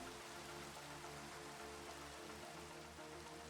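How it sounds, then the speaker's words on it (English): Steady rain falls in a dense, even hiss that stays constant throughout, with no voices and only a faint low hum beneath it. "oh, look, it's raining."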